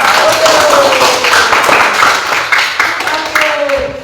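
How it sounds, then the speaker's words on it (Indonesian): A class of fifth-grade schoolchildren claps together in a classroom, loud close clapping with a few voices mixed in, fading slightly toward the end. "Oke, beri tepuk tangan sekali lagi kepada kelompok sawah."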